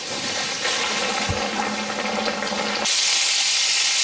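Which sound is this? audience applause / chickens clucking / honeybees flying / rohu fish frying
rohu fish frying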